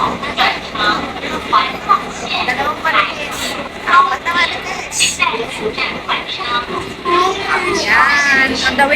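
Steady rumble and rattle inside a moving MRT train in Taiwan, with people chatting over the constant noise.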